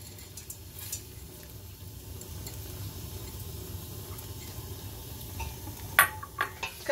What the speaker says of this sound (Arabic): كنخلطوا هادشي مزيان هكايا، كنخلطوه مع البصيله ومع داك المعدنوس